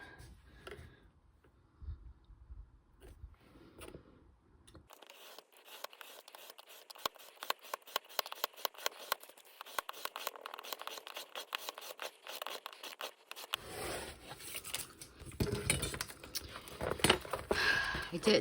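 Scissors snip steadily through the pages of a 2023 Hobonichi Cousin notebook being cut down to B6 size, a fast run of close, crisp cutting and paper scratching, quiet at first and growing busier.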